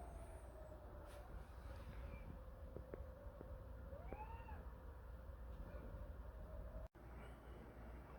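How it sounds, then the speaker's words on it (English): A pet cat named Ella gives a faint, brief meow indoors over steady background hum, with no talking. "Ella says meow"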